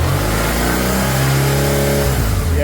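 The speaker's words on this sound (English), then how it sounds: "now we've got a really nice idle" A BMW R1150GS motorcycle engine runs steadily after a throttle body sync, a close, loud, even idle rumble with a smooth mechanical tone and no speech.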